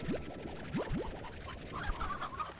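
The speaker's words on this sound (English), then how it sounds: "We got lots of chickens." Chickens clucking in the farming game Slime Rancher: a few short rising clucks near the start, followed by softer scattered bird chatter over a quiet, low background.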